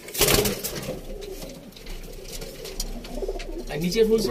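Pigeons cooing nearby in soft, repeated throaty calls, with a few people talking in the background.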